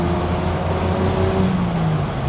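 A 1972 Datsun 240Z engine revs hard and climbs in pitch, drops briefly as it shifts through its 4-speed gearbox, then pulls up again, loud and close from the passenger seat.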